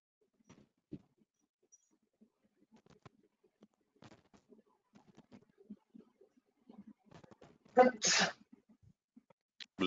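A single sharp sneeze bursts out near the end, loud and close, following a stretch of quiet, scattered talk and small background noises.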